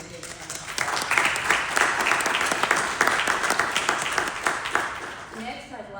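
Audience applause at a speaker event, a steady dense wash of clapping from a sizable crowd lasting several seconds before tapering off, with a voice emerging near the end.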